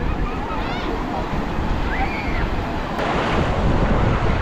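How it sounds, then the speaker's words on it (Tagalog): Big ocean waves roll and crash at a beach in Quezon as a steady, loud surf roar mixed with wind buffeting the microphone, with faint voices now and then. "Masaya to. Ang lalaki ng alon."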